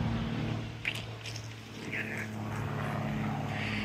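An airplane passes overhead, its propeller drone a steady, broad rumble lasting several seconds, heard at moderate distance with a few faint nearby clicks.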